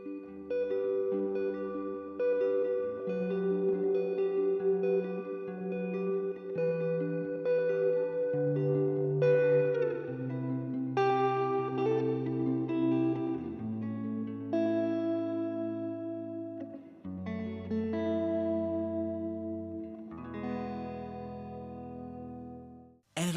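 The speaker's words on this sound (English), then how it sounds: "Now we're going to add back in that reverb." Electric guitar played through a Hotone Ampero Mini multi-effects unit with its North Star reverb and a Superstar 2x12 cabinet simulation, sustained chords and melodic lines ringing out with lush, spacious reverb tails throughout.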